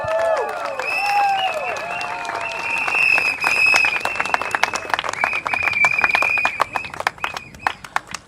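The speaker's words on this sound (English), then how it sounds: "A round of applause to her," Crowd applause at an outdoor political rally beside a bus interchange in Tampines, sustained clapping with whistles and cheers over it, thinning into scattered sharp claps toward the end.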